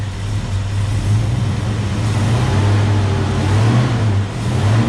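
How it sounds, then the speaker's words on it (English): A Ford XW GT Falcon engine runs at raised revs during a voltage regulator check, a loud steady low hum with slight rises in pitch, close by and without voices. "Let's give it some revs and see if it picks up a bit."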